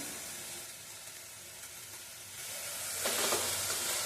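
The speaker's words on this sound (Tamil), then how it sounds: "காஞ்சி மிளகாய் வந்து ஒரு அஞ்சு மிளகாய் போட்டுக்கிறேன் நல்லா வதங்கணும்" Dried red chillies sauté in a hot pan for a drumstick-leaf chutney, a steady soft sizzle that swells louder and brighter near the end as stirring stirs up the oil.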